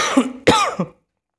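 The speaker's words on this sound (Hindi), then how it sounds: "सॉरी जरा खांसी हो रही है" A person coughs three times in quick succession, close and loud, followed by silence.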